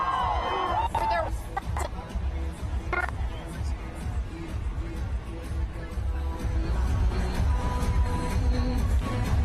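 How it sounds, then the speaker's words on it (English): A crowd lines a New York City ticker tape parade for the US Women's World Cup champions, screaming and cheering as the players ride by on a float. The roar is continuous with scattered whoops. "fans are screaming and cheering as their heroes come by on the float"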